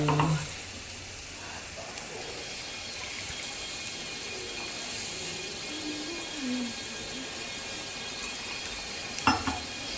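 Tadka spices with bay leaf and curry leaves sizzle in hot oil for a drumstick curry, a steady broad hiss near the pan with a couple of brief knocks and clatters.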